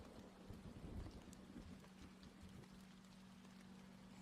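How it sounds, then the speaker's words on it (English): Soft, distant rainfall with a low rumble resembling thunder, steady and quiet throughout with a faint hum underneath and no voices. "I love the sound of the rain."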